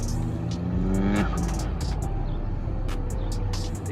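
Muscle cars and Mopars pulling into a car meet rumble and rev loudly and close by, one engine climbing sharply in pitch before easing off under a steady throaty idle, with no talking.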